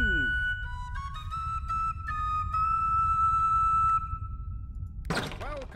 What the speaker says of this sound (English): Wildland Whistle. That's the tune.